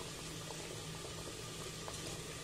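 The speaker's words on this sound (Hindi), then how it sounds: "मसाला अच्छे से पक रहा है, इसमें एक नींबू का जूस डालेंगे" Masala cooking down in water with lemon juice bubbles in a pot as a soft, continuous burble with faint pops, quiet and unbroken.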